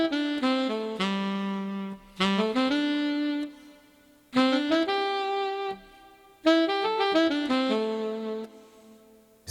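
Keyboard saxophone voice plays sustained melodic phrases in four separate bursts, each cut off cleanly on key release, leaving brief gaps where a soft breath noise follows; loud and solo with no talking.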